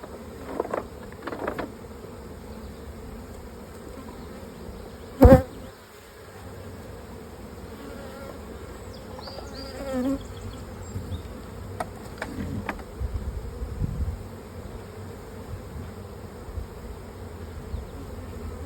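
Steady, low droning buzz of many honey bees around a hive as bees are cleared from honey supers, with a few sharper bumps and knocks, one loud thud midway.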